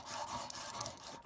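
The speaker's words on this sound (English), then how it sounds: "now it's just filing to the lines" Brass is worked by hand with a file, a short close rasping scrape that holds steady with small strokes.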